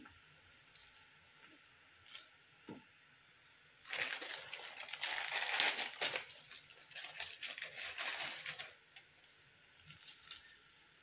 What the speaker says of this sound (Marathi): पाण्याला उकळी आलेली आहे, मॅगी मी याच्यात टाकून घेते